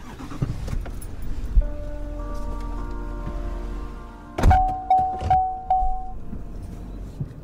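Pickup truck doors thunk shut in a cluster of loud, close slams at dawn outside, followed by a steady engine hum and a chiming door alert as people climb back in.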